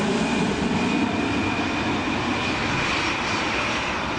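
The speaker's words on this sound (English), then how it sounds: "look at that 727 right there" A Boeing 727 jet airliner's engines roar in a steady, broad rumble with a thin high whine on top, loud and continuous throughout with no talk.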